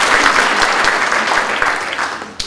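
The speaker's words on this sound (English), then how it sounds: "Absolutely, round of applause." An audience claps in a steady, lively round of applause at an arts gathering opening with a Welcome to Country, the clapping loud and even before tapering off near the end.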